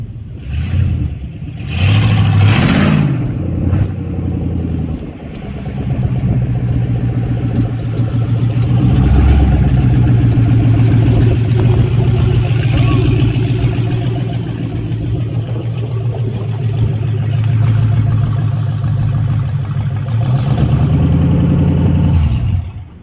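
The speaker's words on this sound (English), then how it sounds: "we have the truck running and driving" A race truck engine starts up, idles with a steady low drone, then rises and falls as the truck is driven, staying close and loud for over twenty seconds with no talking.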